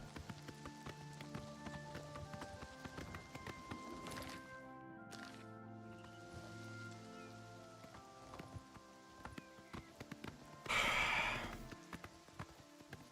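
Horse hooves clip-clop in Oblivion as a steady series of soft taps under tonal background music, with a brief louder burst of noise toward the end.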